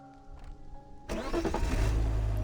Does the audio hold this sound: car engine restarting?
yes